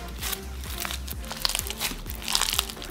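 Crunchy slime with a Nerds-candy-like texture is squeezed and pressed up close, giving repeated crisp crackles and crinkling pops in a busy, uneven rhythm with no voices.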